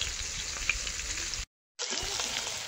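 Shol (snakehead) fish frying in oil, a steady crackling sizzle that runs on alone with a short silent gap in the middle.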